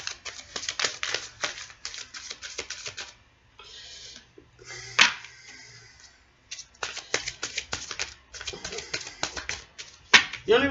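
Oracle cards being shuffled by hand in bursts of crisp, rapid flicks and riffles, close and fairly loud, with brief pauses between runs and no talking.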